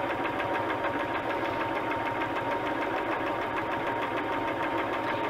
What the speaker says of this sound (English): And I just got my sewing machine.